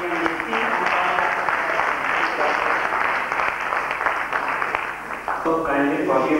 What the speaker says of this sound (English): give you a round of applause for supporting the PMDC